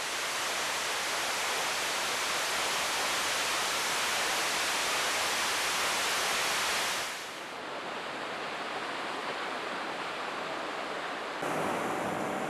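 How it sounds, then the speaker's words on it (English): Waterfalls spill down the cliffs of an inlet near a river mouth in northern Australia, a continuous broad roar of falling water with a slight drop in level partway through, steady and without any voices. "With its dramatic backdrop of delicate waterfalls"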